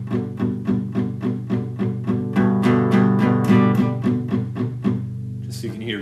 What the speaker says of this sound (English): And I'm muting them, so I'm using the side of the palm of my hand.